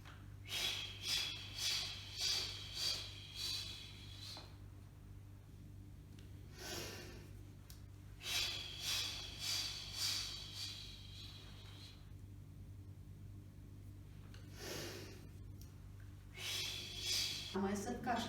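Sharp, jerky exhalations come in rhythmic bursts of several quick pushes each, repeated in sets with pauses between, close and fairly quiet, during a breathing rehabilitation exercise for COVID-19 patients.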